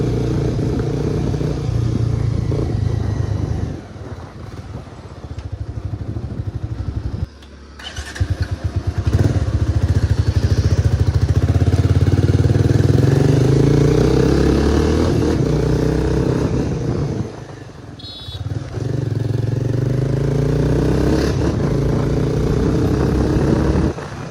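A motor scooter's engine runs loudly and steadily while riding, with brief dips as the throttle eases, then picking back up.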